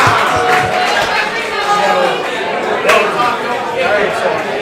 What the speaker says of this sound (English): can you give me a round of applause for G-Mama?